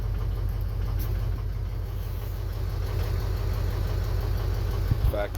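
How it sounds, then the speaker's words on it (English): A Ford 6.0 Powerstroke diesel truck engine idles roughly and choppily, a steady close low rumble with an uneven, lumpy pulse running through the whole stretch. "still have a really choppy idle"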